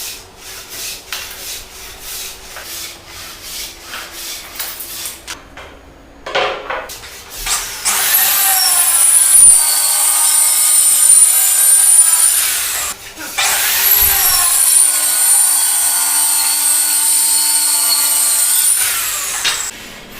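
A plywood door panel is cut along a 76.5-inch length. Light intermittent scraping comes first, then two long, loud, harsh cutting passes of roughly five seconds each, divided by a brief pause.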